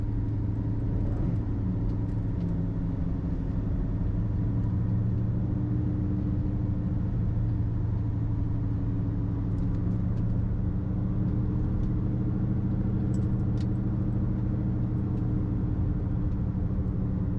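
A 2010 BMW 535i with a turbocharged engine drives around a corner, heard from inside the car as a steady, even engine and road rumble with no sharp changes, moderately loud and continuous, without talking.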